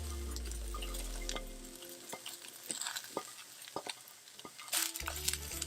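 Cabbage sautés in a pan for a cabbage and cauliflower dish. It gives a soft crackling sizzle with scattered stirring clicks and scrapes, fairly quiet, and a louder burst near the end.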